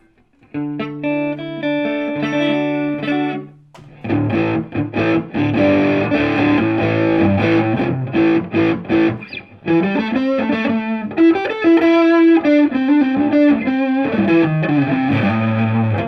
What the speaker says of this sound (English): That's the normal channel with a distortion on it.